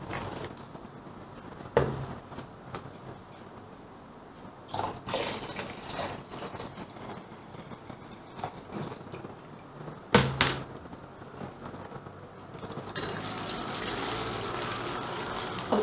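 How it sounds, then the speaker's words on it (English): Water spurts from three equally spaced horizontal holes punched in a plastic water bottle during a physics demonstration of water pressure and depth, giving a steady soft gushing and splashing with a few louder splashes. "you can see these three horizontal holes have water spurting out at equal distances"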